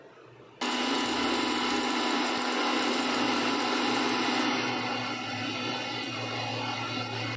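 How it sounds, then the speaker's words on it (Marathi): A kitchen mixer grinder grinds cooled roasted ingredients, starting abruptly and holding a steady, loud, continuous whirring motor drone with slight changes in pitch partway through. "थोडंसं थंड झालं की हे वाटून घ्यायचं मिक्सरमध्ये"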